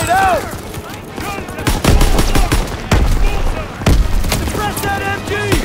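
Rapid machine-gun bursts and heavy gunfire crack through a Call of Duty WW2 battle, loud and close, with booms and in-game voices shouting over the fusillade.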